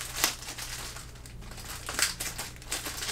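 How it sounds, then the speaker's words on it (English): Scissors cut through packaging tape on a parcel holding soccer shoes, giving a close, uneven crinkling and crunching with sharper snips at intervals. "So I don't think my knife will cut through all this tape, so I just got some scissors right here."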